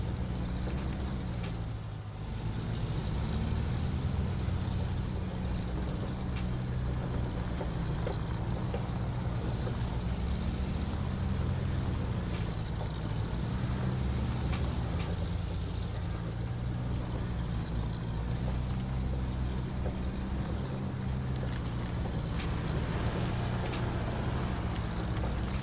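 Heavy truck engine in SnowRunner on PS4, a steady low rumble held through the whole stretch as the throttle is eased on gently, with a constant broadband drone and no talk over it.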